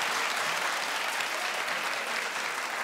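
A television talk-show studio audience claps steadily, a dense, loud wash of applause sustained evenly from start to finish with no talk over it.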